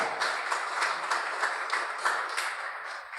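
Church congregation clapping together in a steady, soft patter of many hands, fairly faint and distant in a large worship space.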